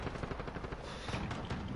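Rapid automatic gunfire in Call of Duty: Modern Warfare on PS4, a dense, loud burst of overlapping shots with no gaps across the whole short stretch.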